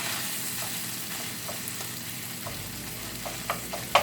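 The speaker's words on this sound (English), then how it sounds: "when I get this sausage browned up" Sausage browns in a pan with a soft, steady sizzle, marked by a few light scrapes and stirs, the last of them sharper and louder, close up with nobody speaking.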